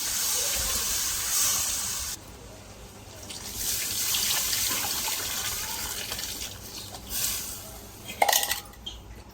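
Water pours into a tamarind broth for fish curry, a steady hissing gush with clinks of a pot, fairly close and moderately loud, tapering near the end with a brief louder splash.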